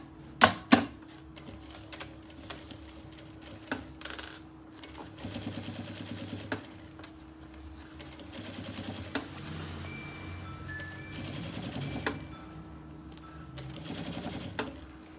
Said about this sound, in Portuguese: E vou fazer o quê? Costura de pesponto